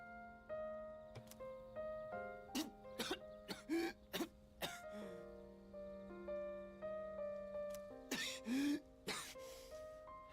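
Repeated short coughs from a character in Persona 3 Reload, a dozen or so in uneven bursts, over soft steady background music.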